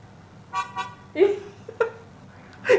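Car horns honk in Malaysian traffic: several short, bright toots in scattered bursts, some doubled, over a low road rumble, fairly loud and close.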